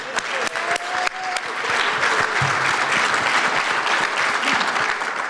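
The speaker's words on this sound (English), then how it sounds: "let's applaud them like you would always do" At a community awards event, an audience breaks into applause that starts with a few scattered claps and quickly builds into a full, steady round of clapping.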